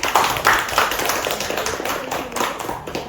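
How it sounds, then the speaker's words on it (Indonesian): Scattered applause rises from a small group of teachers at a school mentoring session, a moderate patter of hand claps with no clear rhythm, fairly close and continuing for a few seconds. "boleh beri tepuk tangan Bapak Ibu"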